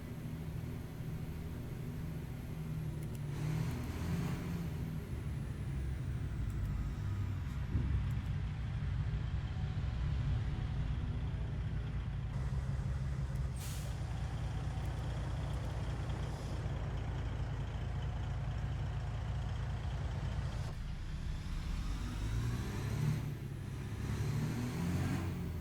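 A Freightliner FLD truck engine in American Truck Simulator drones steadily and quietly throughout, a low continuous rumble with occasional hissing and shifting tones, no voices.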